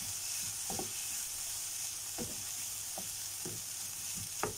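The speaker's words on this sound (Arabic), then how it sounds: "نقلب الفلفل برضو ما ننساهوش. داخل برضو في السوا بتاعه التشويح كده" Peppers sautéing in a pan without oil give a soft, steady sizzle, with light scraping taps from stirring every second or so, heard up close and quiet, with no voices.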